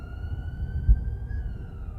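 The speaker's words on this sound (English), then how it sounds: "Hearing a distant siren, the gang panicked" A police car siren wails from far off, a faint steady tone running under low rumbling background noise, with one dull thump partway through.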